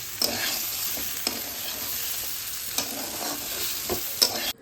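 Steady sizzling of hot oil as patra leaves are tempered, with a spoon scraping and stirring through the pan in short strokes, close and continuous.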